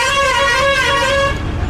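A bus coming in from Guntur arrives at Tenali bus stand and sounds one long, steady horn blast of over a second, which then cuts off and leaves a low engine rumble.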